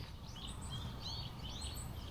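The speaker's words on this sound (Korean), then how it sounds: "해릉으로 향하는 길에 새들이 유난히 요란스럽게 울어댑니다" Several birds chirp and call in overlapping bursts along a wooded path to a Korean royal tomb at Donggureung, Guri, on a weekday afternoon, a steady busy chorus at moderate distance with low background rumble.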